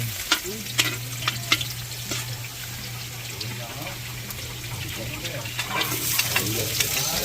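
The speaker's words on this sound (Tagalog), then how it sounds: "Yan, nagigisa na po." Garlic sautéing in oil in a pan, a steady close sizzle with occasional scraping stirs and small clicks, a low hum underneath and voices faintly in the background.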